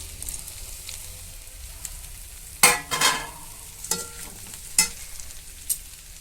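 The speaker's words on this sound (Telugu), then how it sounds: "ఆనియన్స్ మగ్గాయండి కొంచెము ఇప్పుడు ఇందులో ఈ బోడకాకరకాయ వేసేసుకుంటున్నాం" Spiny gourd tossed into a pan of softened onions, frying with a low sizzle punctuated by several sharp, close scraping and clattering stirs of the spatula.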